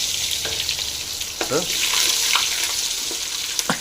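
Crushed garlic dropped into hot oil in a pan, with mustard seeds already in, for a carrot dish; a steady broadband sizzle and crackle runs throughout at close range, with brief stirring or clinking noises.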